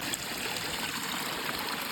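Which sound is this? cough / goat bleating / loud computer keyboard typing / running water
running water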